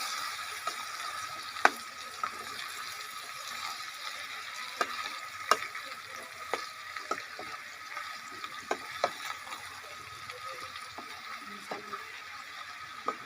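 Bottle gourd is stirred in a cooking pot over a faint, steady frying hiss, with a spoon knocking and scraping against the metal at irregular intervals.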